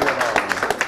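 Studio applause on an Italian television sports talk show, a short burst of brisk, evenly paced clapping from a small audience, close and moderately loud.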